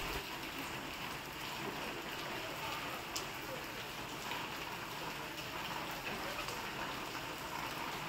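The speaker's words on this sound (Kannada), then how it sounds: "ಬಟ್ ಸ್ಟಿಲ್ ಮಳೆ ಆಗ್ತಾನೇ ಇದೆ." Heavy monsoon rain falls steadily in the hills of Wayanad, Kerala, a dense, even hiss of drops pattering on surfaces, continuous and close with no break across the whole stretch.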